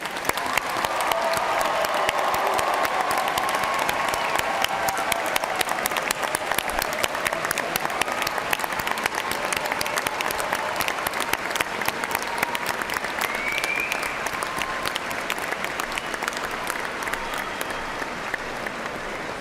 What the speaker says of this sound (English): let's recognize with a round of applause Eastern Kentucky University's newest graduates